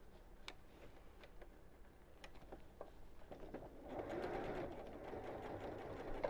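A sewing machine stitches a boxed cushion cover close against the piping cord, with a quiet ticking run of needle strokes that builds into a steadier, louder mechanical whir toward the end.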